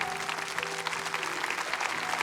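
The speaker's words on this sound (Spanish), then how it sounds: "Pongámonos de pie y démosle un fuerte aplauso al Señor" Standing church congregation giving the Lord loud applause, a dense, energetic burst of many hands clapping close and full, sustained evenly with faint background tones beneath.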